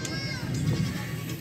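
Goats bleating amid the crowd at a Faisalabad goat market selling Beetal goats, with short calls in the near distance over a busy babble of voices and children.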